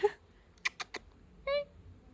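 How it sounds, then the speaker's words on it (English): A domestic cat gives a short, clear meow near the end, preceded by a few faint clicks and a brief sound at the start, fairly close and quiet. "we have a cat over there"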